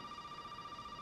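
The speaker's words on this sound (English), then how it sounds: "Oh shit, the phone." A telephone rings in the horror video game Resident Evil 7: a steady electronic ring tone, held evenly and fairly faint for about a second.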